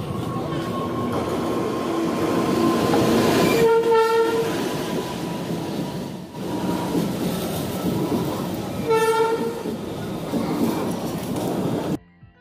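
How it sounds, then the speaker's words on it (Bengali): A train pulls into Hasimara station in North Bengal, its low rumble and clatter rolling steadily as two loud horn blasts sound a few seconds apart, before the noise cuts off abruptly. "আমরা চলে এসেছি হাসিমারা স্টেশনে, আর কিছুক্ষণের মধ্যে কিন্তু আমাদের ট্রেনও চলে এসেছে।"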